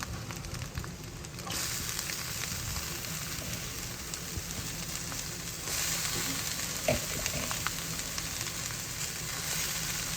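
Grated cabbage frying with egg in a pan for Singapore egg poriyal, a loud, dense, continuous sizzle like heavy rain, close up, with occasional faint stirring taps and no talking.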